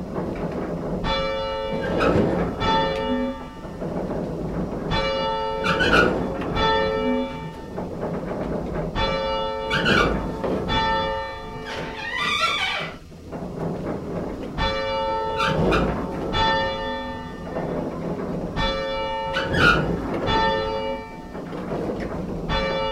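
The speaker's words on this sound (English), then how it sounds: "I'm not going to get in trouble by whacking that bell." Large church-type bell on a town common struck repeatedly by hand, loud ringing clangs arriving in groups with long resonant tails overlapping, no talking.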